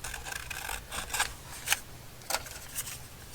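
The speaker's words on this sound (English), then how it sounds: "I think I might just cut out this little dish that they're sitting in and just kind of cut around them." Scissors cutting out a paper picture for a planner collage, a few quiet separate snips and paper rustles, close and soft.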